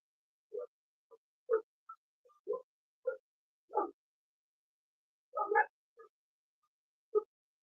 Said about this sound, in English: I think the neighbor dogs are barking at each other.